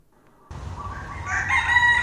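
A rooster crows loudly and close by in early-morning Maui, Hawaii, one long drawn-out cock-a-doodle-doo that starts abruptly and rises toward the end, with no talk over it.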